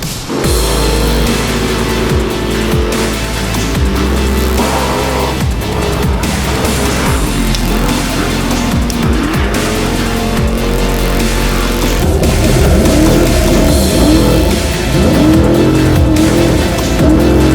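Off-road race car running laps on a dirt track at Glen Helen during a shakedown in a Pro Lite off-road class, its engine loud and close with constant revving, shifting pitch and tire squeal and skids throughout, no talking.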